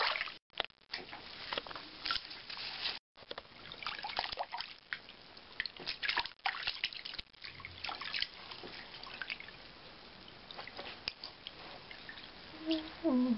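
Foamy bath water sloshing and trickling nearby, with soft drips and splashes in uneven bursts and brief gaps, fairly quiet and without speech.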